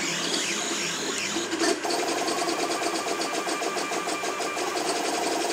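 A 3D printer with TMC5160 external stepper drivers runs close by, its stepper motors whirring and buzzing in fast rhythmic tones with a brief clunk near the middle, steady and fairly loud throughout.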